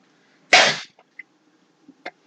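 A single sharp sneeze bursts out up close, followed by a few small clicks and soft breathy sounds in an otherwise quiet room.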